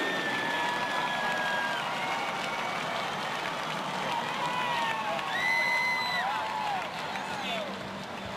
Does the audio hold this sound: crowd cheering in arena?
yes